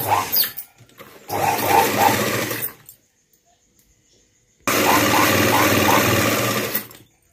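A sewing machine stitches a blouse hem and lining in two loud, rapid bursts, separated by a quiet pause with a faint hum, heard up close with no voices.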